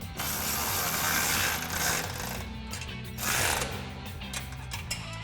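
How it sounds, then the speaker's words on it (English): A ratchet socket wrench clicks rapidly while tightening the bolts of a skid plate for a front bumper on a Jeep Gladiator JT, the close metallic ratcheting coming in several bursts with brief pauses. "we're gonna tighten these down with a 13mm socket and a 13mm wrench"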